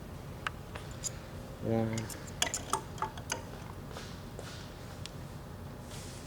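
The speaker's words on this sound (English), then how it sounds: "Then lastly, we want to do our 2 set screws in the star wheel hub." Faint small clicks and ticks of two set screws being tightened into a star wheel hub, quiet and close, with someone talking over them.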